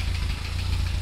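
A 22 kW generator engine rated for 380/220 V runs with a steady low rumble and a light rattling texture, heard close and continuous.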